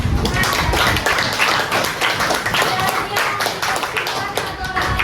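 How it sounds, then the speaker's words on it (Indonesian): A school class claps hands together in a classroom, a dense burst of applause lasting several seconds with scattered taps and children's voices mixed in. "tepuk tangan untuk"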